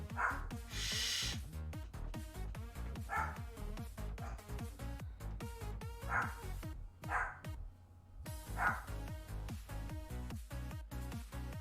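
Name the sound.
dogs barking at the mailman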